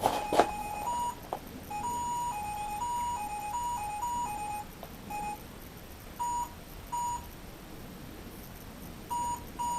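A faulty parking sensor kit falsely emits short electronic beeps in irregular bursts, sometimes in quick runs and sometimes in isolated pairs, over a quiet background hiss.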